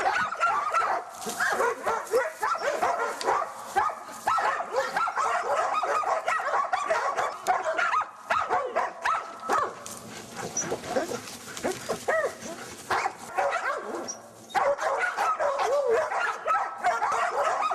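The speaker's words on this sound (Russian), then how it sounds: "Собаки начинают психовать, кобели между собой драться." Hunting dogs on a sable hunt bark, yip and whimper in loud, excited bursts that go on nearly without pause, with some faint human voice mixed in.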